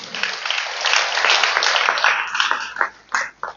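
Church congregation clapping hands together, a dense, steady wash of applause at fairly close range that swells and then breaks into a few last scattered bursts.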